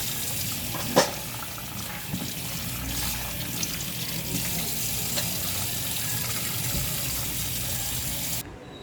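Tap water runs steadily into a kitchen sink while dishes are washed during orange chiffon cake baking, a continuous close gush with a few faint clinks and no talking.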